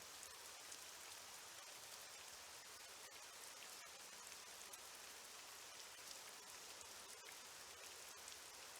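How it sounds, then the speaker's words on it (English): Outdoor rain in a Nancy Drew video game falls as a steady, soft patter of drops on surfaces. It stays faint and even throughout, with a few sharper drips and no speech. "No one should mind the rain."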